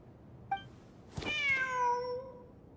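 A cat meows in the video game Genshin Impact: one short chirp, then a longer, clear, drawn-out meow, close and alone over quiet background.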